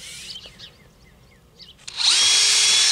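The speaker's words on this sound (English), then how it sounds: "So I'm going to drill two holes." A handheld power drill bores two holes around a basement window frame during a replacement, with a short burst early and then a loud, sustained high whir running steadily to the end, no voices.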